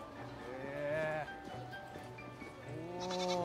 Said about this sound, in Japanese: ヤギの触れ合いコーナ